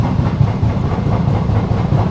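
A loud, steady rumble of the Sealdah–Varanasi train rolling on rails at night near Durgapur, with a repeating rhythmic clatter from the wheels and no talking.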